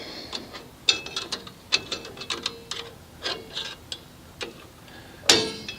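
The self-adjuster on a drum brake of a 1988–1998 Chevy K1500 Silverado clicks down notch by notch, a quick run of sharp, close ratchet ticks in an uneven rhythm, ending on one louder snap.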